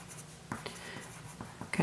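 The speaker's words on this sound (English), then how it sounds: "Let me write that down for you." Someone writes on a board during a pre-algebra lesson on plotting points, a handful of short, close scratchy strokes and taps spaced irregularly against a quiet room.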